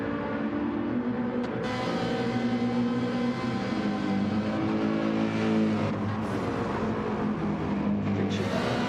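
A BMW GR3 race car engine lapping the Nürburgring Nordschleife in Gran Turismo, a steady loud harmonic drone rising and falling with revs and brief gear changes, engine sound only.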